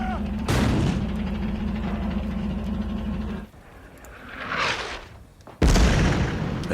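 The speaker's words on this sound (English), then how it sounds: "The gunner fires at the anti-tank gun." A heavy battle gun fires at an anti-tank gun in a cinematic tabletop war scene, a sustained rumbling roar with a booming blast, a whooshing swell, then a sudden loud crack near the end.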